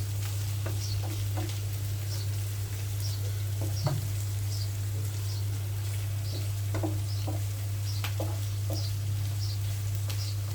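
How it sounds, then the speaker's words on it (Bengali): Fish with garlic, onion and coriander leaves frying in a pan, a steady close sizzle with scattered pops and crackles over a constant low hum, no talking. "2 মিনিটের মতন ভালোভাবে ভেজে নামিয়ে নেব।"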